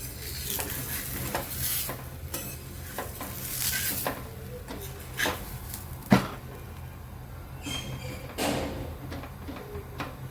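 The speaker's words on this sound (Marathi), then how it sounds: "चला तर पराठा पलटी करून घेऊया" A pea and potato stuffed paratha fries on a pan, sizzling steadily under repeated close scrapes and clatters of a spatula as it is turned over, with one sharp knock partway through and no voices.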